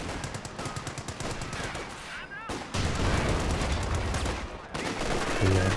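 Gunfire from the Company of Heroes 2 battle, with a Cromwell tank firing on friendly units: dense, continuous bursts of automatic fire with heavy booms, loud and sustained, with a brief lull midway.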